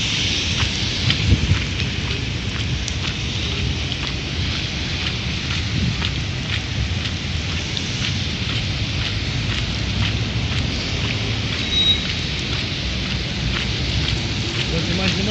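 Steady rain pours outdoors throughout, with low thunder rumbling underneath; a fairly loud, continuous wash of drops with no voices.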